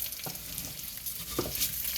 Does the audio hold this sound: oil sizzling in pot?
yes